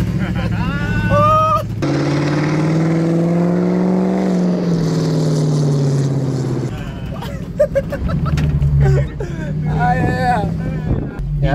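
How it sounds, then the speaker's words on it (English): A de Souza Built hot rod with an automatic transmission, driven in Kenya, rumbles from inside the cabin with a deep, steady engine drone that rises and falls with throttle, mixed with wind buffeting and brief bits of talk. "this car makes all the right noises"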